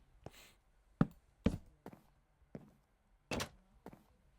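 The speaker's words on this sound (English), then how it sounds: "it's time to put in the doors" Doors being placed in a Minecraft survival build: a series of short wooden thunks and clacks, about six irregularly spaced hits, fairly close and moderately loud.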